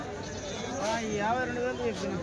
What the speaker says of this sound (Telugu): ఇవేట్లన్నా మేకపోతులు?